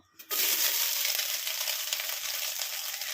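Soya chunks hit hot oil in a kadai and start frying, bursting into a loud, steady hiss and crackle after a brief quiet moment, close and continuous.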